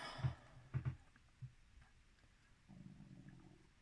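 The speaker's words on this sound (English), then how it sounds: "if you hear noise, it's my stomach rumbling" A hungry stomach rumbles in a few faint, brief gurgles near the start, followed by a low, quiet hum in an otherwise quiet room.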